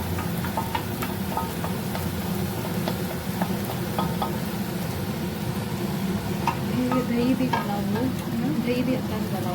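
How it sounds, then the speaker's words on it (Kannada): Tomato puree hits a pan of hot masala for a paneer dish, giving a steady, close sizzle and frying hiss with scattered stirring clicks and scrapes throughout, and a slightly louder bubbling near the end. "ಇವಾಗ ಇಷ್ಟು ಟೊಮ್ಯಾಟೊ ಪ್ಯೂರಿ ಹಾಕ್ತಿದ್ದೀವಿ."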